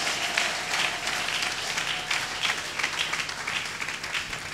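A church congregation applauds together, a steady broadband wash of many hands clapping that holds at even loudness throughout, with no voices standing out.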